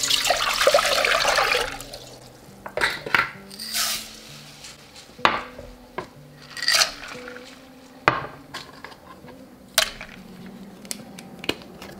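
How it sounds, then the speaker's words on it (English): Elderberry syrup ingredients, including ginger, cinnamon sticks and ground cloves, tumble into a pan with an initial rushing pour followed by scattered clinks and taps against metal at irregular intervals, close by and with no voices. "I'm just gonna put all of this stuff in this pan."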